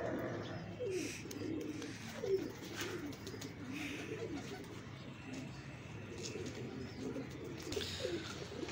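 Pigeons coo softly on a rooftop, low repeated calls rising and falling at a moderate distance against a quiet outdoor background.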